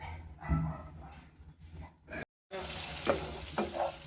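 Butter boiling down in a pan to make ghee, a soft bubbling sizzle that sets in after a brief gap, preceded by a dog's whimpers and low noises nearby.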